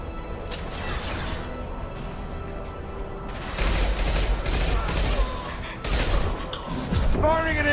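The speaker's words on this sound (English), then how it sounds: "Firing an impact shot!" Bursts of gunfire from an impact shot in Mass Effect Legendary Edition ring out loud and close, several sharp volleys with booming impacts amid game combat noise.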